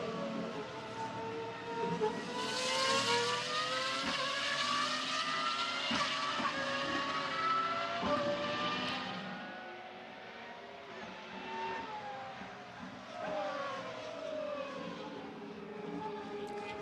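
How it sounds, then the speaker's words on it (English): A Pagani Huayra R with a V12 engine roars on the Nürburgring track, a loud sustained howl with rising and falling pitch sweeps as it accelerates and shifts, passing by without any talking. "This is a very, very special sound, of course, made by the fantastic V12 engine"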